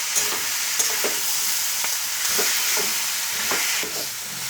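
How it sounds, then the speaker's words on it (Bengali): Spice paste and a couple of small tomato pieces sautéing for a cauliflower stalk chorchori, with a steady sizzle under repeated scraping stirs of a spatula in the pan, close and fairly loud, no voices. "দিয়ে এটা বেশ ভালো করে কষিয়ে নেব।"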